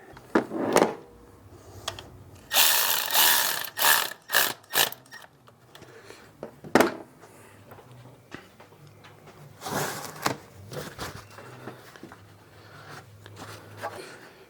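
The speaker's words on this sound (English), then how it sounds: "So I guess we can put the bleed port plug back in." Coolant bleed port plug being screwed back into a Dodge Charger R/T during a 100k-mile service, with clicky mechanical ratcheting and plastic turning noises in short bursts, up close, without talk.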